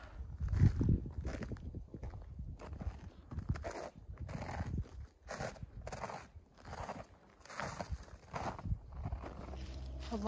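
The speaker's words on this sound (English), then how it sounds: "Crunch, crunch." Footsteps crunching over an icy, snowy woodland trail on a melting morning, a steady walking rhythm of close, gritty crunches with short pauses between strides.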